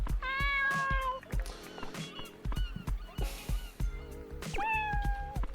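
Several cartoonish cat meows in the Dave the Diver video game, clear and close, mixed with game clicks and effects.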